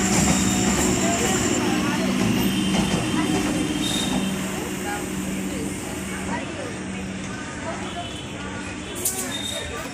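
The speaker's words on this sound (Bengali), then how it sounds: "এই ট্রেনটা যখন চলে যাচ্ছে" A train pulls out of a station, giving a dense, broad rumble and rolling clatter that stays loud at first and then gradually eases as it moves away, with voices mixed in the background.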